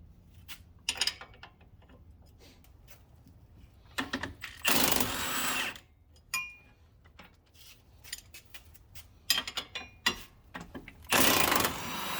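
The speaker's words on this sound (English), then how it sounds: "I'm going to take the knuckle bolts and nuts loose." Loosening the knuckle bolts and nuts on a 2007–2013 Nissan Altima, with bursts of ratcheting, metallic clanks and tool clicks, plus two longer loud whirring runs of a power tool, close up and without speech.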